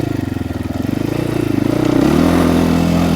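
Engine of a Trailmaster TM 38E Chinese motorcycle, close and loud, chugging in uneven pulses that sputter before the revs climb and hold at a higher, steadier pitch.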